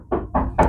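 Three firm knocks on a door, evenly spaced and close by, with no voices.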